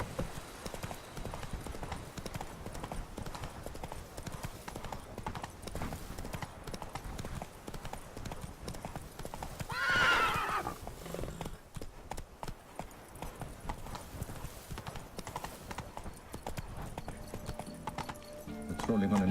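Roach, Geralt's horse in The Witcher 3, gallops with quick rhythmic hoofbeats close by, a brief whinny rising midway, and game dialogue spoken over the running.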